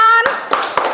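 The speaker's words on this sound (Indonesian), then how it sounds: "tepuk tangan." A few sharp hand claps in a classroom, following a brief voice, as a teacher leads applause for a student group.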